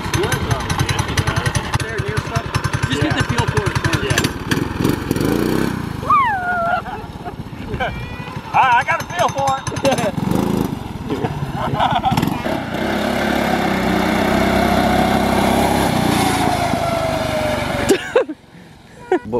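A small gas engine swapped into a Power Wheels Mustang toy car starts and runs, its buzzy, uneven revving rising and falling under frequent talk, then cutting off near the end.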